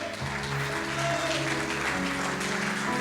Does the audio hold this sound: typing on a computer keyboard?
no